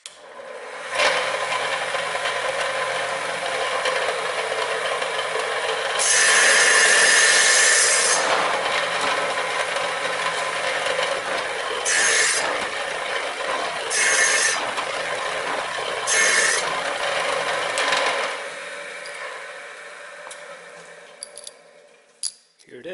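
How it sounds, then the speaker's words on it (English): A wet tile saw slicing through printed circuit boards, a loud whining motor hum with several harsher bursts as the blade bites the board, then winding down near the end. "So I'm just going to show you how I'm going to cut a couple of these PCBs."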